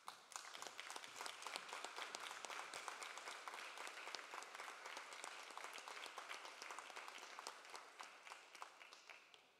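An audience at a Shawinigan city council meeting applauds during a certificate presentation, a sustained burst of many hands clapping with sharp individual claps audible, steady and moderately loud across the room.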